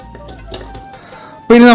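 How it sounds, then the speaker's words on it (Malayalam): Soaked bamboo rice tipped into a pressure cooker in a home kitchen makes a soft, scattered rattle and rustle of grains, followed by a brief hiss before a voice starts speaking. "കുക്കറിലേക്ക് ഇടുകയാണേ"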